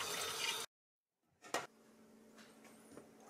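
Cold tap water runs briefly over homemade poultry bratwurst, then cuts off abruptly, followed by a faint knock and soft drips in a quiet kitchen.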